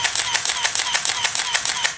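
A Minolta Motor Drive 1 on a Minolta X-700 camera fires in continuous high mode, a rapid burst of about seven crisp clicks per second, close and even, with no voices.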